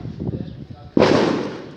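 A single loud firecracker bang at a morning São João bonfire, a sharp burst that cuts off family chatter and then rings out in a broad, decaying crackle.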